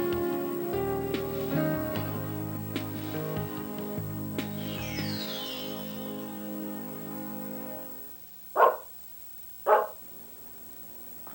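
A dog barks in an apartment, two sharp, separate barks about a second apart, with a third starting at the very end, following a stretch of tonal music.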